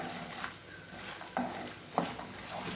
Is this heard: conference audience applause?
no